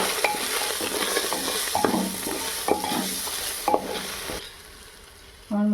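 Ground cumin, coriander and chili powder sauté in a pan, giving a steady sizzle broken by repeated scraping stirs, with a brief clank near the end.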